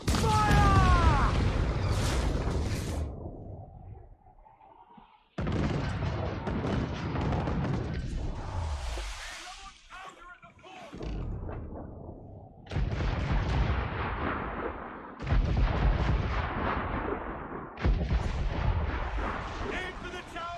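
Ship cannons firing in Assassin's Creed Black Flag during a naval battle, several loud booming volleys in separate bursts with rumbling decay, shouted crew voices in between.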